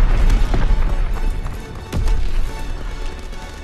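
Grenade blast in Call of Duty: World War 2, a heavy boom that opens loud then swells again near two seconds, thick low rumble with scattered debris clatter fading out.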